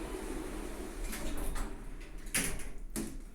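Lift doors sliding shut in a building in St Albans: a soft rumbling hum, then a sharp brief clunk and a second fainter bump as the doors meet, close by and without talk.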